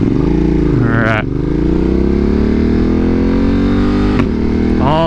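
A 2025 Ducati Panigale V2 motorcycle accelerates hard, its engine note climbing steadily through the gears with quick-shifter upshifts cutting in crisply, loud and close throughout.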